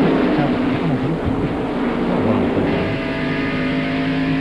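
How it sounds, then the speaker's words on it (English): NASCAR stock cars race around Bristol during the 1995 Food City 500, a loud continuous engine roar with shifting revving pitch as the pack circles the short track. "Pulled away from the four car. And here come Marlin and Waltrip."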